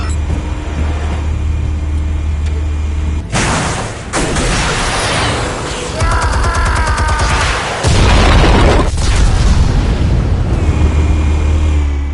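A large explosion in a Batman video game bursts in with a loud blast, followed by rumbling debris and further heavy booms over a low droning background.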